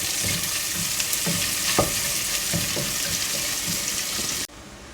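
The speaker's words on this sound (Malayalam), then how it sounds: "ഇനി ഇതിലേക്ക് നമ്മൾ അരിഞ്ഞു വെച്ചിരുന്ന ഒരു സവോള അത് നമുക്കിടാം. ജസ്റ്റ് ഒന്ന് ഇളക്കി കൊടുക്കാം." Chopped onion stir-fries with garlic in a hot pan, a continuous close sizzle broken by repeated spatula scrapes, cutting off abruptly just before the end.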